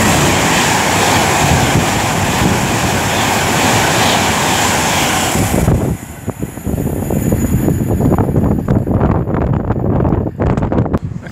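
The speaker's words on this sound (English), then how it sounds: "now approaching me 39132 for Avanti West Coast, working 1 Alpha 34 from Liverpool Lime Street to London Euston." A Class 390 Avanti West Coast Pendolino on the West Coast Main Line at Rugby, a loud rushing roar with heavy wind buffeting as it nears and passes, giving way to rhythmic rail clatter.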